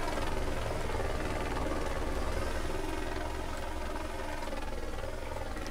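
A helicopter in a GTA roleplay game flies over a police chase near Norrock, its rotor and engine a steady, continuous drone with no voices.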